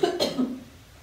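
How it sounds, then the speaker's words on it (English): A single person coughs once or twice into an arm, indoors in a quiet basement, muffled and close, followed by a brief throat sound and then silence. "I'm all alone in my basement and yet I cough into my arm"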